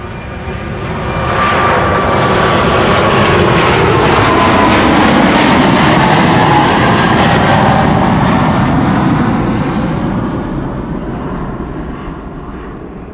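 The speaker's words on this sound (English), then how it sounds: "Here it is, KLM Flight 743 to Lima in Peru, 777-300 the PHBVG Bravo Victor Golf" A KLM Boeing 777-300 jet roars through its takeoff roll at Amsterdam Schiphol, the engine thunder swelling to a loud, broad peak mid-way with a whining tone, then slowly fading as the airliner climbs away.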